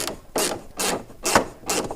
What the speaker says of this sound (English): a ratchet with a socket that is the correct size to take this apart